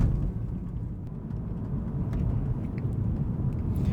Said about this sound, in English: the second gear and third gear in this car really slams. Like, it sounds so good with the downpipes.